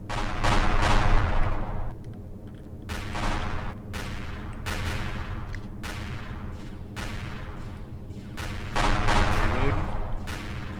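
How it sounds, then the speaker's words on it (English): Enemy gunfire in the space game Empyrion Galactic Survival, repeated heavy shots and bursts in an irregular rhythm over a continuous low rumble, loud and near, with a voice talking faintly underneath. "And I'm still getting shots fired in my direction"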